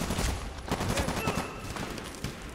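Gunfire in the Medal of Honor Warfighter video game, a dense, continuous spray of shots rattling steadily for a couple of seconds at moderate level with no one talking.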